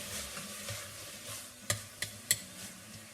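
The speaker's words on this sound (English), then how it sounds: "let's start stirring this meat around here" Ground beef for spaghetti sauce frying in a pan while a utensil breaks it apart, a soft sizzle with three sharp scraping clicks against the pan near the end, no talk.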